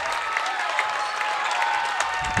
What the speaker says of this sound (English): Nice reaction from the crowd